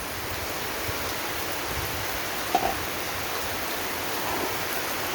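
Steady rain falls as a dense, continuous hiss with no break, with a couple of faint clicks and knocks over the wash.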